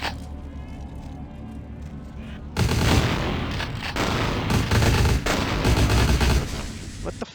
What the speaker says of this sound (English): We'll try the shotgun.